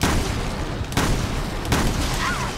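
Gunfire in a modded PC game of Resident Evil Revelations 2, with two sharp, loud shots about a second apart over a constant rumbling game background.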